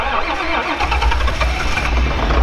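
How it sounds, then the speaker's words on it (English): John Deere 4010 tractor engine starting on a chilly farm morning, a loud, dense diesel rumble that catches and settles into a rough, steady idle close by. "I came out earlier, plugged the tractor in, so we're gonna get this started."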